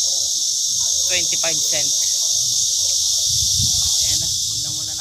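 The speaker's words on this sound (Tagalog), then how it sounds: "Nakita kami giant kuliglig." Giant cicada giving a loud, steady high buzz that runs unbroken through the whole stretch, with someone talking briefly over it.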